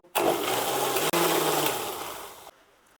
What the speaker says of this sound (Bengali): আমি আর একবার মিক্সিটা ঘুরিয়ে নেব